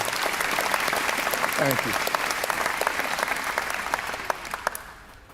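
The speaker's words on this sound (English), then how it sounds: "Thank you for your applause." Dense, steady audience applause at a comedy show fills the whole stretch, holding loud before thinning slightly at the end, with a brief spoken thanks over it.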